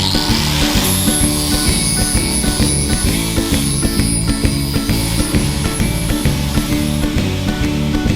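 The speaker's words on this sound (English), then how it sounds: "We'll follow the template with the grinding wheel." A grinding wheel works the edges of a metal guitar cover plate, following a template. The steady, loud abrasive whir and rasp runs without a break for several seconds and is heard alone.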